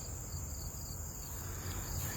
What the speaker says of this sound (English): Look at the bees on it already.